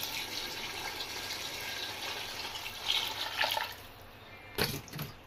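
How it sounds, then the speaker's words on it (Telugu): Water poured into a pot of biryani rice, a soft steady trickle that swells and splashes a few times near the end, fairly quiet and close with no talking. "ఇక ఎసరు పోసేసుకోవడమేనండి"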